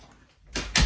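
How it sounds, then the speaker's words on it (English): A door is pushed shut indoors, giving two quick, close bumps of wood against the frame near the end, after a brief quiet moment. "let me shut this door"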